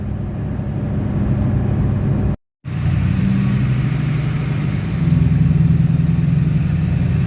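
An LBZ Duramax diesel pickup fitted with an S&B cold air intake is pushed toward wide open throttle, giving a loud, continuous engine roar with a momentary cutout, then a building, rising drone.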